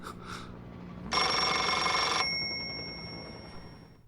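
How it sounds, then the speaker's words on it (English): A telephone rings in a single loud, sustained burst of about a second, its bright metallic bell tone cutting off and leaving a fading hum. "He can't even pick up the phone anymore."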